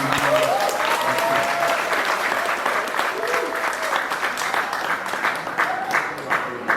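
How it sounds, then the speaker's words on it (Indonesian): A theatre audience applauds steadily with dense clapping throughout, while voices talk and call out underneath. "Kita harus apresiasi dan tepuk tangan buat"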